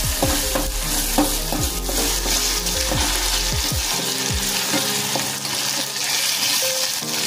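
Ginger, garlic and chili paste fries in hot oil over raised heat, a loud dense sizzle with quick scraping strokes of a spoon through the paste, close up and without speech.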